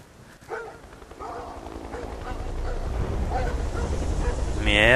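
Dogs bark in the video game Beyond: Two Souls, several yips and barks over a rising, busy game soundscape, with a low rumble building toward the end.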